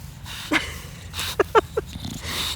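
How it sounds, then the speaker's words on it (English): Two bulldogs at home give a few short yips and whimpering barks in quick succession, close by, over a low steady background hum. "Oh my gosh, these two dogs."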